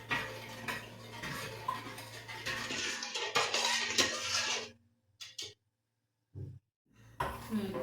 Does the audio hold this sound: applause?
no